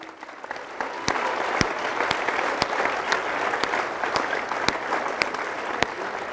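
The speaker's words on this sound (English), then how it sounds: "I want you to give yourselves a big round of applause because you made it." First-year students at a university new student convocation clap together in a dense, steady round of applause, with sharper individual claps standing out from the crowd throughout.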